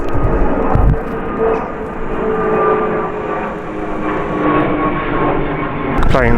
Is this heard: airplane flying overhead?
yes